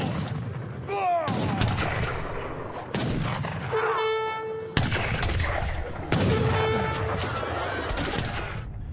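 Cannon and gunfire in a 2005 PC strategy game battle with infantry, cavalry and cannons against redcoats, dense continuous rattling shots and booms with tonal game sound effects, loud and busy throughout.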